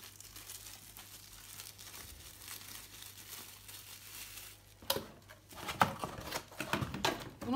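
After a few quiet seconds, plastic crinkles and rustles close by in irregular bursts, growing louder toward the end.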